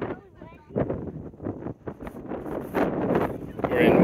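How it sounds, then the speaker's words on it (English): Wind gusts buffet the microphone on a hilltop at the Cheesewring near Minions, Cornwall, rising into a loud rushing roar toward the end, while people talk throughout. "It's windy up here."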